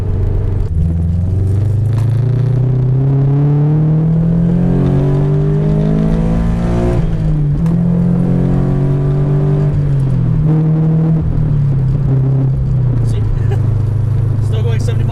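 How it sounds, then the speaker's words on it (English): A Toyota 86 / Subaru BRZ engine revs up under hard acceleration onto a highway on-ramp, a rising drone climbing through the gears, with someone talking over it. "I can mash on the gas pedal getting onto the on-ramp"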